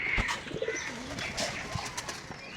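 Pigeons give several low, soft coos nearby against a faint background of rustling and small chirps, with no talking.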